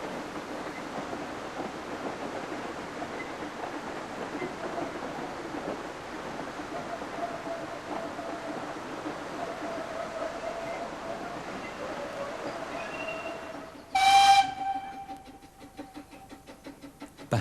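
Talyllyn Railway steam locomotive Peter Sam departing for Tywyn, a soft steady chuffing rumble at a distance, then a sharp, loud whistle blast near the end followed by quieter running.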